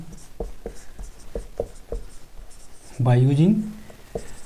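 Writing on a board during a mathematics lecture: a series of short, sharp strokes and taps in an uneven rhythm, close and clear, with a brief burst of a voice partway through.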